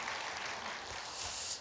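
Church congregation applauding at an early-morning special prayer service, a dense, steady burst of clapping that fills the space alone and tapers off at the end.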